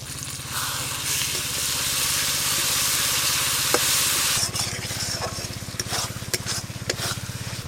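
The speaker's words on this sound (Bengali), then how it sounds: "আজকে আমি এই যে পাঙাশ মাছের কালিয়ার জন্য মশলাটা এইভাবে কষে নিলাম" Spice paste for pangas fish kalia sizzles in hot oil with a steady hiss, a low hum underneath, then sharp spatula clicks and scrapes as it is stirred.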